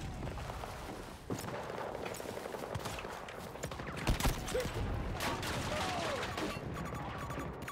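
Gunfire in a first-person shooter video game, a few sharp shots around the middle over continuous noisy battle ambience, with faint voices in the mix.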